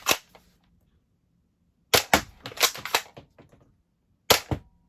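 A Nerf Dinosquad Raptor Slash blaster firing foam darts at a target, sharp loud cracks arriving singly and in a quick cluster of shots, separated by silence.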